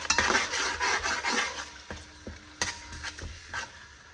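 Fenugreek paste fries in hot oil in a pan, a steady sizzle under repeated scraping and clinking of a spoon stirring against the metal, close and continuous with no talking.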